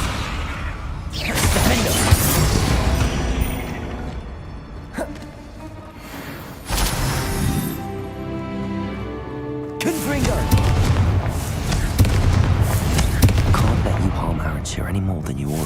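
Fiery Confringo spell blasts in Hogwarts Legacy during a spider fight, loud booming explosions bursting repeatedly over a continuous roar of combat noise, with a brief quieter stretch in the middle before another heavy blast.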